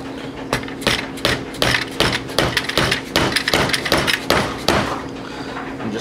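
Repeated sharp metal hammer strikes drive a chisel between the two halves of a Ford Powerstroke 6.0L turbocharger from a 2005 F250, coming in an uneven, fairly loud series of close blows with a faint steady hum beneath.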